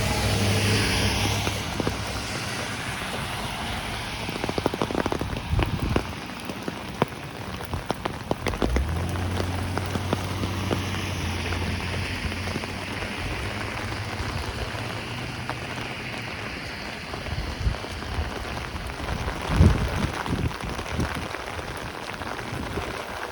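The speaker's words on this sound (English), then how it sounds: "So many sound variations of the rain I'm noticing on the walk." Steady rain falls on a street in Howard Beach, Queens, New York, pattering on surfaces with occasional louder drips, while a car passes at moderate distance.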